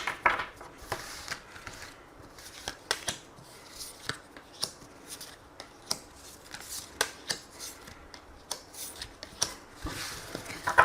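Tarot cards shuffled by hand ahead of a reading, a quiet, steady run of soft papery riffles and flicks with sharp little snaps scattered throughout, close and alone with no talking.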